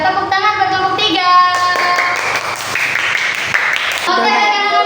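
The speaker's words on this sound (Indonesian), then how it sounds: "Tepuk tangan buat kelompok 3." Classroom of students clapping for a group after its presentation, a burst of scattered applause that swells in the middle and tapers off, with children's voices and a teacher speaking around it.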